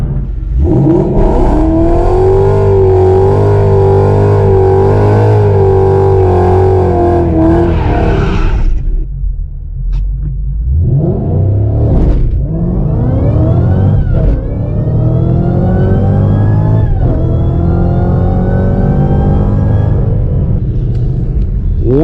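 A Ford Mustang on a drag strip revs loudly, then launches and accelerates hard through repeated rising gear pulls, its engine roaring close and powerful with brief dips at each shift.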